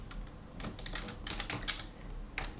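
Quick, irregular keystrokes patter on a computer keyboard as code is entered, light, close clicks coming in short bursts with brief pauses, no voice over them.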